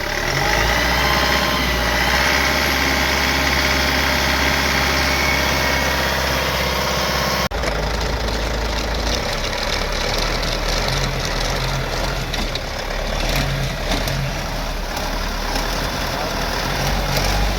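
A Renault Master 2 van engine idles loudly and close, then its note shifts as it revs, with a rough, vibrating hum that continues throughout; its axles are damaged and dry of oil.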